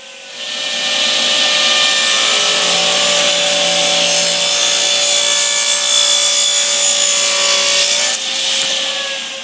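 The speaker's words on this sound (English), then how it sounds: "now I'm just resawing all these pieces down a little bit thinner" A saw steadily resaws wooden trim pieces thinner, giving a loud continuous rasping cut that runs for several seconds and eases briefly near the end.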